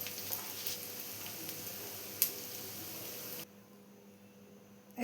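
Shallots, garlic, curry leaves and chili flakes frying in a pan for kappa mezhukkupuratti, giving a steady close sizzle with a brief louder crackle, then dropping to a faint hiss.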